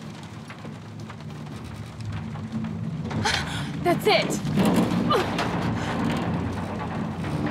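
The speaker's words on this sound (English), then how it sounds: "I don't like this storm." A storm in the video game Shadow of the Tomb Raider brings steady rain with rumbling thunder that swells in the middle, while characters speak over it.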